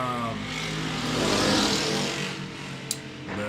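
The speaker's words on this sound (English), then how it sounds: "there's these little fucking never-do-wells who have like these little motorcycle things loud as hell" Small, loud motorcycles passing outside make a steady engine roar that swells to a peak near the middle and then fades, with a brief sharp click late on.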